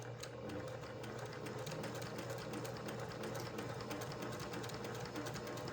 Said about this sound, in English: This is a high-speed straight stitch machine. It's the Novell 1500S, which is now the PQ 1500 SL